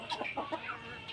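Country chickens on a farm cluck in short, quick bursts at moderate distance, with a rooster among the native hens, a few brief calls overlapping within about a second.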